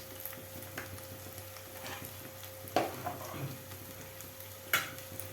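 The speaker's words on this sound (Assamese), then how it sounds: "এতিয়া এইখিনি আকৌ অকণমান ভালদৰে লৰাই দিব লাগিব।" Spices stirred in a hot pan with garam masala, cumin powder and coriander powder: faint sizzling under occasional scraping strokes and a couple of light metallic clinks, close but quiet.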